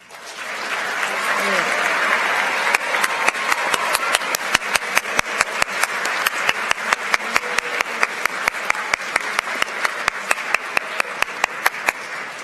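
An audience at a school awards ceremony breaks into sustained applause, a dense wash of many clapping hands that builds quickly and stays loud and steady, with a few sharper claps standing out.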